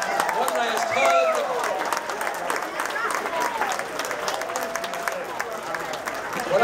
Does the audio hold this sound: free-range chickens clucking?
no